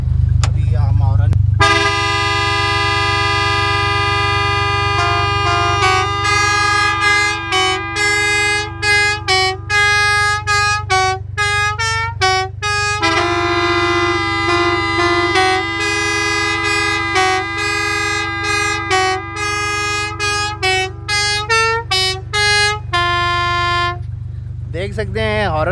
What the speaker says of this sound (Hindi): इसमें हॉर्न्स वगैरह बड़े क्लास के लगे हुए हैं